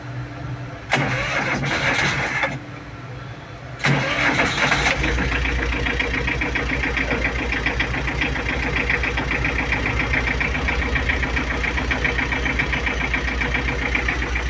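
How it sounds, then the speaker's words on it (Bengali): A used TATA Ace Ex pickup truck engine cranks over in two short bursts, then catches and settles into a steady, loud idle that runs close by to the end, with no talking. "এটা হলো ইঞ্জিনের সাউন্ডটা দেখেন।"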